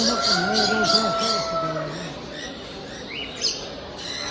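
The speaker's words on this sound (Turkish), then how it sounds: "Evet arkadaşlar bunlar da papağan." Parrots at a Bursa animal market chirp and squawk in a busy, overlapping chorus, with sharp high calls and a louder squawk rising above steady background chatter.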